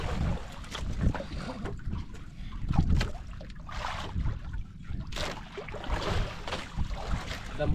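A boat motor running on open water during a grouper fishing trip, a steady low rumble with wind buffeting the microphone and water splashing, continuous and fairly close.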